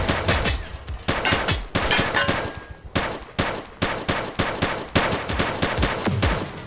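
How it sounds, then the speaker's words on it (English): Gunfire from a gang shootout in the PS5 police game The Precinct, with rapid bursts and repeated sharp cracks that stay dense and loud throughout, briefly thinning in the middle before resuming. "Central, shots fired. Possible gang shootout."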